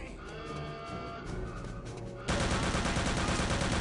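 Rapid gunfire in the VR video game Return to Castle Wolfenstein crackles in a dense, continuous burst, which turns abruptly into a louder, harsher barrage partway through.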